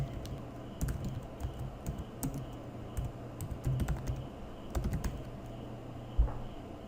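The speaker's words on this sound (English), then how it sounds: "and type in your text." Text being typed on a computer keyboard, steady bursts of soft key clicks in an irregular rhythm, close and fairly quiet, with no talking.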